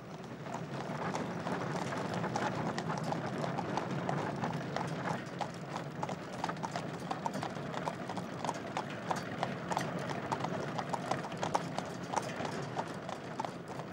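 Steady clip-clop of horses' hooves pulling a carriage, the driver's box behind bobbing backs, a continuous even rhythm of many hoofbeats at moderate distance with no talk over it.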